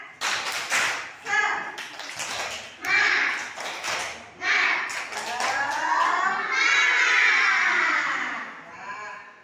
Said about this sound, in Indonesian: Mari sebelum kita mulai, kita lakukan tepuk semangat ya.